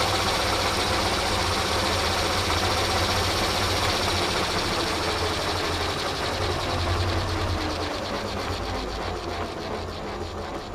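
A Canedy & Otto drill press runs out of back gear, a dense steady mechanical whir with a rapid ratcheting gear rattle and low motor hum, continuous and close, slowly easing in level near the end.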